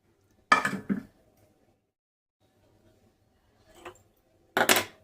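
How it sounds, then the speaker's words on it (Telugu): A metal pan clatters onto a stove in two quick knocks, followed by a faint clink and then a louder burst of sizzle as oil goes in, with quiet gaps in between. "ఇప్పుడు నేను స్టవ్ ఆన్ చేసి పాన్ పెట్టేసి దానిలో ఆయిల్ వేస్తాను."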